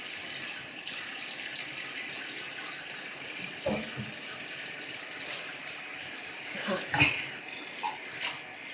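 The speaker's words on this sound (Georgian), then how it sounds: "იმას ჩაის ჭიქა გამოვავლოთ." A tea cup is washed under a running tap, with a soft, steady water hiss and a few light clinks of the cup, moderately close and fairly quiet.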